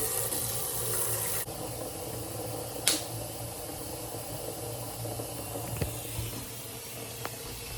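Water runs steadily into a basin for dyeing secondhand yarn, a soft continuous rushing hiss with an occasional faint click or splash.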